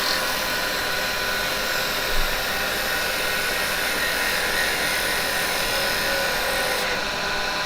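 Wood turning on a lathe with a detail chisel cutting fine shavings, a loud continuous whirring hiss that holds steady throughout with no voices.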